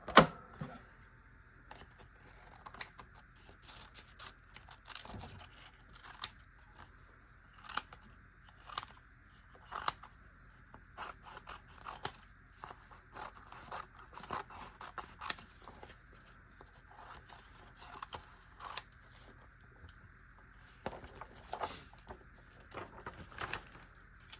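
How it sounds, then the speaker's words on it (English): A paper trimmer slices scrapbook paper with a series of quiet, crisp clicking cuts scattered irregularly over a near-silent background. "I'll use my trimmer to trim it up."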